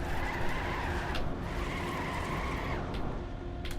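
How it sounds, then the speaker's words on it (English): Tires sliding and skidding on a Trackmania race car, a steady drifting screech over the engine's drone that lasts throughout, loud and close with brief bursts of other game noise. "car is loud because we want to hear it. We want to hear the slides."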